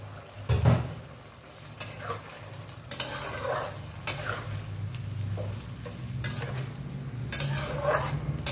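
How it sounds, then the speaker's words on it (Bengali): Spice paste frying in a pan and being stirred, with repeated scraping strokes of a utensil over a low sizzle, close by and moderately loud, arriving in bursts spaced a second or so apart. "মশলাটা ভাজা ভাজা হবে, তারপরে মাংসটা দেবো।"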